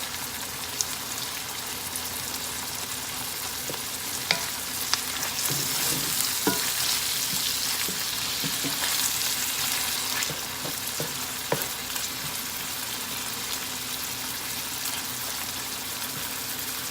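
Butter melts in a hot pan for sausage gravy with a continuous crackling sizzle and scattered sharp pops and spits throughout, close and steady, without any talking.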